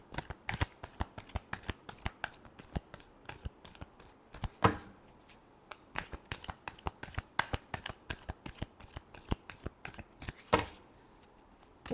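Tarot cards being shuffled by hand, a rapid run of crisp riffling slaps and flutters in steady rhythm, close and fairly quiet, with a couple of louder bursts partway through and no talking.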